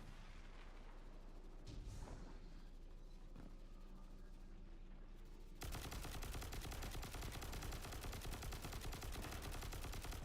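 Dense, loud gunfire in Destiny 2: scattered shots and game effects at first, then a sustained rapid automatic burst that fills the rest of the moment.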